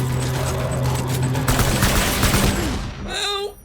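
Rapid gunfire in the video game Death Stranding, a dense, loud fusillade of overlapping shots that carries on steadily and then cuts off abruptly near the end, followed by a few trailing tones.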